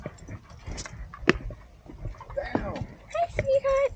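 Puppy making short whimpering and yelping sounds among footsteps, with people talking throughout and a brief whine near the end.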